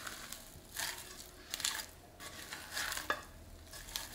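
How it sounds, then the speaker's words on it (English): Rice Krispies being mixed with microwaved jelly, crunchy rustling and crushing strokes in short repeated bursts, fairly quiet and close. "Now I'm going to add it into my Rice Krispies. Every little bit. And mix it with everything."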